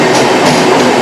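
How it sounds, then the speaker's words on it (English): Train pulling into a station in Geneva, a steady loud rumble of rolling rail cars close by, with no voices over it. "there on the opposite side you can see a train pulling in"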